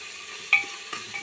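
Onion, garlic, ginger, tomato and masala being sautéed and stirred in a pan for a mackerel curry, with a soft sizzle and a couple of brief scraping stirs.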